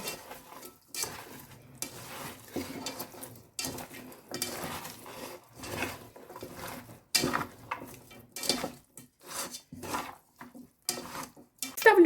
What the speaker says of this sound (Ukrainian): Добре перемішую.